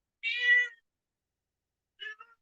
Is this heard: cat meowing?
yes